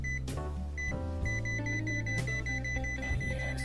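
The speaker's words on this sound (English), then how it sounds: "Yes, and nice sound alarm," A Kaiweets ST500Y digital multimeter sounding its continuity alarm, a moderately quiet electronic beep that cuts in and out in short repeated bursts as the probes touch, with no one speaking.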